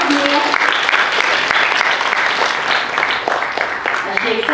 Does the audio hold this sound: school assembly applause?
yes